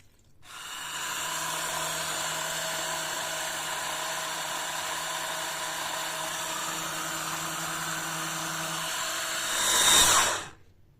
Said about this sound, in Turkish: Bütün malzemeyi 1-2 dakika şöyle blenderdan geçirdim.